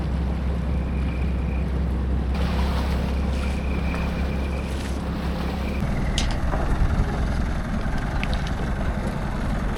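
A boat motor drones steadily across the water at Khao Sok National Park, Thailand, with wind buffeting the microphone and occasional splashes and knocks.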